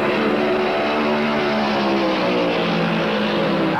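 NASCAR stock cars at the 1971 Southern 500 roar back up to speed on a restart, a dense, continuous engine drone with steady harmonic whine filling the whole stretch, loud and close, with no talk.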